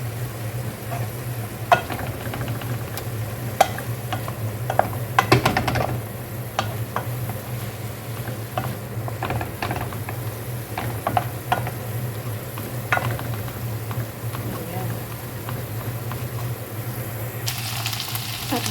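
Ingredients for Arabic lasagna are stirred in a sizzling pan with soy sauce, a spoon scraping and clinking in irregular strokes over a steady frying hiss and a low hum.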